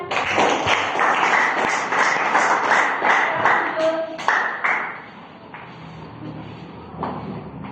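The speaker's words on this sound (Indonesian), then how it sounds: "Ya, baik, tepuk tangan." Students clap in a classroom after a group presentation, a crowded patter of hands for about four seconds that fades into quieter room noise and scattered shuffling.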